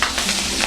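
Onions sizzle and crackle as they are stirred in a hot frying pan with curry leaves and chillies, a steady broadband frying hiss with small scraping stir noises, close and continuous throughout.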